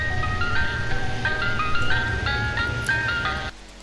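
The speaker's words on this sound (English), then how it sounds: "anytime I'd hear an ice cream truck passing by" An ice cream truck passes by playing its tinkling chime melody over a low engine rumble, the tune repeating in a steady rhythm before cutting off abruptly near the end.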